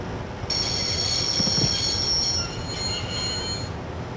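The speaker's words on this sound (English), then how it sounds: "I'd always wanted to stop the train, and now was my chance." In the Broken Sword video game, a train brakes to a stop with a shrill, sustained wheel squeal over a low rumbling rail bed, holding for about two seconds before fading into quieter grinding.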